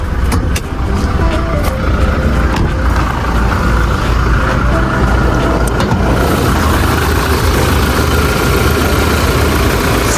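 A Toyota Revo 2.4 diesel pickup idles loud and close, with a steady low rumble and a faint ticking clatter throughout.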